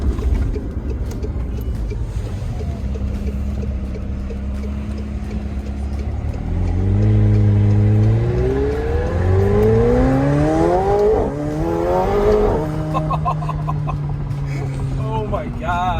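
A McLaren sports car engine rises and falls through a long run of rising revs and gear changes, loud and close from inside the cabin, with a steady drone before and after.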